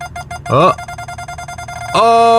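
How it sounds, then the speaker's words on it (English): Electronic beeping tones from an aftermarket front parking assist sensor on a 2021 Chevy Tahoe Z71, over steady background hum, with a rising chirp partway through and a sustained loud beep at the end. "as I approach the truck in front of me, it'll start beeping"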